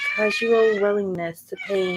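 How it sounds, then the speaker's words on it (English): A cat meows with sustained, wavering tonal cries lasting most of the moment, close and fairly loud, while a person talks over and between the calls. "That's a cat"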